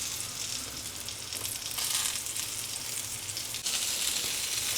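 Whole-wheat pizza bombs loaded with vegetables roast in a pan and get turned over, giving a soft, continuous sizzle that swells and shifts with each flip. Nobody speaks.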